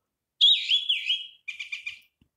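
A bird-chirp notification tone from a ZTE Majesty smartphone plays a bright warbling whistle, then a short run of four rapid chirps, clean and alone.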